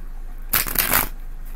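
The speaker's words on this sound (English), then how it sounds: "They're saying you're done shuffling." Tarot cards are shuffled in one quick riffle lasting about half a second, a close, crisp burst of flicking paper in an otherwise quiet room.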